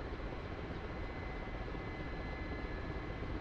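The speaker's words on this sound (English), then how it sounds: "Veritek, this is my first time flying a helicopter ever. In DCS." Steady, even rotor and engine drone of a helicopter flying in the DCS flight simulator, Mi-8 or Gazelle, continuous and close with no talk over it.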